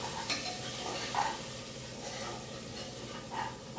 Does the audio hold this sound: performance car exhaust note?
no